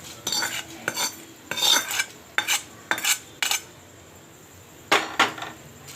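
A metal spoon clanks and scrapes repeatedly against a pressure cooker pot as tempering is poured into ven pongal and mixed in, sharp irregular clinks at close range with quiet gaps between and faint sizzle underneath.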